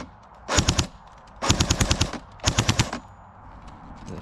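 A Cyma Sport AK47S airsoft electric rifle with a metal gearbox fires three short full-auto bursts, each a rapid string of close, sharp clacking shots with a slight skip, separated by brief pauses.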